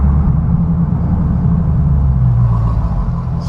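A Dodge Challenger Hellcat engine held at half throttle, a loud, steady low rumble that drones on without a break, close up and with no talk over it.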